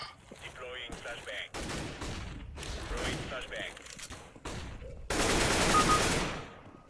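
Bursts of CS:GO gunfire, rapid shots and volleys cutting in and out, loud and close, ending in a dense noisy barrage.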